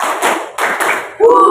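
A class claps in a quick rhythmic sequence of three bursts of group hand claps, followed by a voice calling out in a chant.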